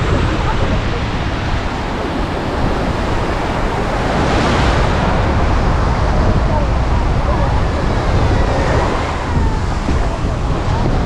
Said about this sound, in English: It's just water. It's just the ocean.